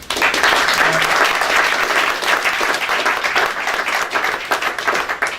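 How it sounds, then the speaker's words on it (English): An audience gives a final round of applause to a panel at the close of a Q&A event: dense, steady clapping that is loud and close and fills the whole stretch, with a few louder claps near the end. "can I just have a final round of applause for the panel?"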